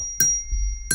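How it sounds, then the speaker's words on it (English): A bell rings twice, each a short bright strike with a shimmering tone, about 0.7 seconds apart, with a low soft rumble between the rings and no talk. "I didn't think I heard the bell."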